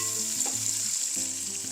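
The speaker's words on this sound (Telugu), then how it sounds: "ఉల్లిపాయలు మంచి కలర్ వచ్చే వరకు వేయించుకోవాలి." Sliced onions fry in hot oil with whole spices for chicken pulao, giving a steady bright sizzle with faint stirring clicks and scrapes throughout.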